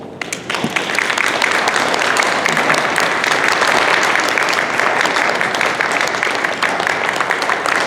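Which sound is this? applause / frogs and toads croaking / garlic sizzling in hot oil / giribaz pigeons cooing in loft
applause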